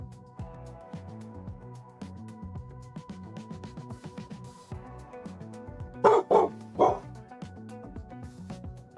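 A puppy barks excitedly in a quick burst of several loud, close yaps near the end, over a busy indoor background with some muffled voices.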